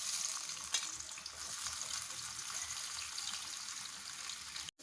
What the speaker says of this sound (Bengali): সবথেকে প্রথমে তেলের মধ্যে দিয়ে দিচ্ছি আমি পেঁয়াজ কুচি